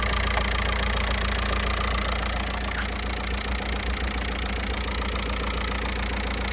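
A 2-litre Peugeot car engine running steadily, close and loud, with a deep continuous low hum and rhythmic mechanical knocking throughout and no talking.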